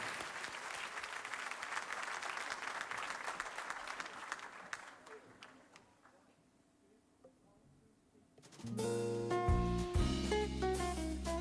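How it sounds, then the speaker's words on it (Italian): Audience applause for singer Mario Puglisi, a crowd clapping steadily and then fading to a few scattered claps before music starts up loudly. "Applauso per Mario Puglisi."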